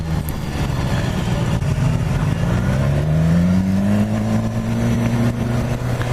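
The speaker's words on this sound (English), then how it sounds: "And look at the sounds of the exhaust." A 2017 BMW S1000 XR motorcycle exhaust revs loud and close, a continuous deep engine roar rising steadily in pitch as the throttle opens.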